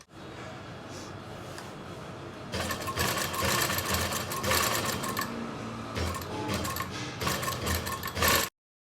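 A sewing machine stitches a kurti front neck along a marked pen line, its rapid needle chatter starting softly then running loud and steady after a short pause, with brief stops and restarts before cutting off abruptly.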